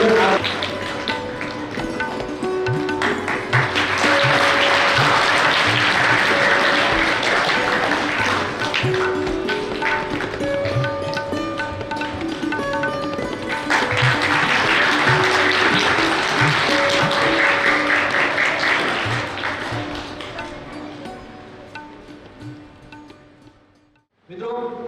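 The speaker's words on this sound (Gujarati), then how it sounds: "તાળીઓ પડવી જોઈએ." Audience clapping at a primary school principal's farewell ceremony, a long, steady round of applause that swells twice and carries on loudly for about twenty seconds before cutting off, with tonal background sound running beneath it.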